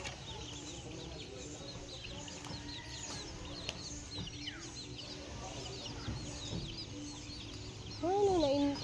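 Chicks cheeping at a farm in Moalboal, Cebu, with many thin, high peeps scattered throughout among clucking fowl, and a louder, closer burst of calls near the end.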